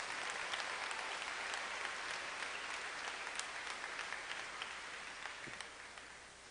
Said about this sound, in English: One more round of applause for our salutatorians.